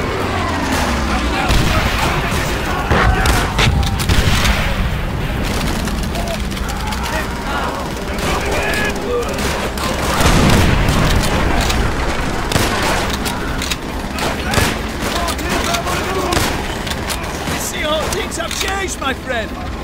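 Battlefield gunfire from Call of Duty: World at War, with dense rifle shots and booming blasts rolling on without pause across the whole stretch, mixed with shouting voices.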